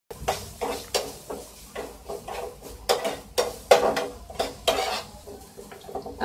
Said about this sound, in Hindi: अब इन सबको हम अच्छे से मिक्स कर देंगे